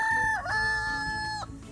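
A man who once won a rooster crowing contest imitates a rooster's cock-a-doodle-doo with his voice, a strong, sustained crow with a wavering break near the start and a drop-off at the end, loud and close.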